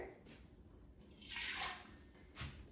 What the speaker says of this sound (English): And I'll add 1 cup of water.